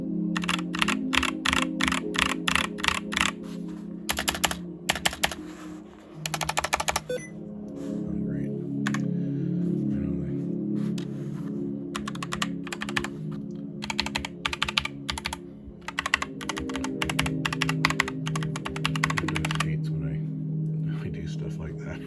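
Clicky keystrokes from a SteelSeries Apex M750 gaming keyboard rattle in quick bursts and pauses, close to the microphone, with a low background hum throughout.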